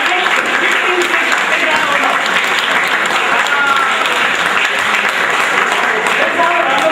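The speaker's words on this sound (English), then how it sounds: "Let's have a round of applause for Suraj and Yash as well." Audience applause at a live quiz competition on stage, steady dense clapping filling the whole stretch at close, loud level without letup.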